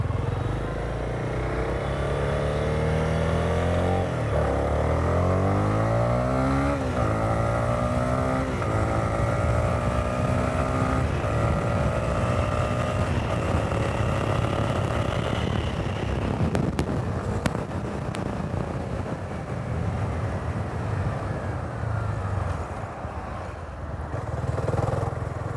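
A Honda motorcycle ridden at speed, its engine droning loud and steady with rising and falling pitch through gear changes, wind rush throughout, easing slightly near the end.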